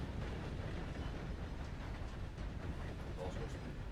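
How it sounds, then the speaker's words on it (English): A train passes nearby, a steady low rumbling roar with faint rhythmic rail clatter running throughout, fairly quiet and continuous. "There's the train."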